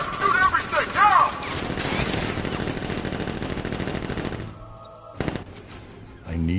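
Heavy automatic gunfire in a video game militia ambush, with a loud sustained burst of rapid shots fading into scattered single cracks, and a voice over the opening moments.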